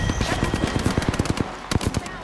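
Gunfire rattles out in Apex Legends as rapid automatic bursts, closely spaced sharp cracks in quick succession, loud and near, with a short pause before a final few shots.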